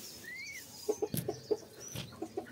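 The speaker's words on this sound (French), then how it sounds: "il y a les petits oiseaux. Alors on les entend, ils pipioutent" Little birds chirp in short, scattered calls, mixed with soft low clucks that come in a loose, irregular rhythm close by.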